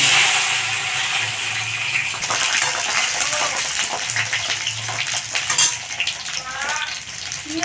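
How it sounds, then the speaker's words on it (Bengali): Eggplant slices frying in hot oil in a kadai, a continuous bright sizzle with occasional scraping and stirring clatter, heard close and fairly loud throughout. "তেল গরম হয়ে গেছে আমি এবার বেগুনগুলো ভেজে"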